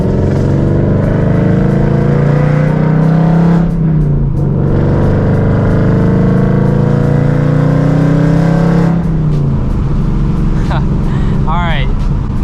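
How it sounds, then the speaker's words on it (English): Ford Mustang engine drones loudly with a steady tone, drops off briefly, then rises again before another dip, followed by sharp crackling pops, as heard from inside the car with no voices over it. "Downshifts are freaking crazy."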